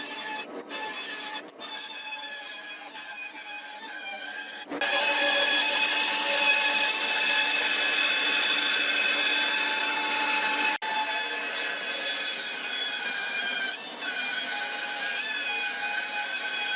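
A weed eater runs outdoors near a woodworking shop, a steady high-pitched droning whine that carries on for the whole stretch, louder after a few seconds, with no talk over it.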